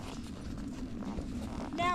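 Hooves of a horse walking during a trail ride near a riding ring, soft steady clip-clop under continuous nearby talk, with a brief brighter tonal sound at the very end.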